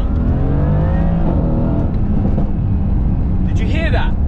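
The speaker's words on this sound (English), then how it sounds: "The snap, crackle, and the bang from the exhaust at my own command" A loud Mercedes-AMG sports car engine revs and burbles, then sharp exhaust crackles and pops burst out near the end.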